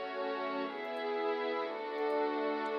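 Sustained string chords from the Expand 2 plugin, running in pattern mode for an Afro house track, hold a steady, fairly quiet layered tone with subtle rhythmic movement.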